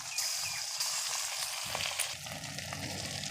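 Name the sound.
ginger-cumin paste frying in hot oil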